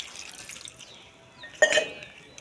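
Water splashes from a container onto potted seedlings in a short, close burst of pouring and dripping after a quiet stretch.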